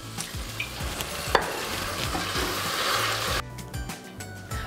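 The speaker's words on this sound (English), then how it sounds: "add a tablespoon of vinegar and cook for 30 seconds" Pepper and rosemary sizzle in a frying pan as vinegar is added, a continuous bright hiss with soft stirring scrapes throughout, steady and close, before the sizzle briefly drops in the last second.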